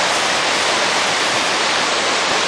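Floodwater rushes hard through a flooded canyon near a scout camp, a loud, steady broadband roar with no break, close and alone.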